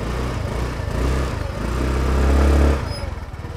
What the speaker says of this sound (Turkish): Bir de şu egzoz sesini dinleteyim size.